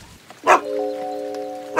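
A dog gives one loud, close bark, followed by a steady held tone in the background.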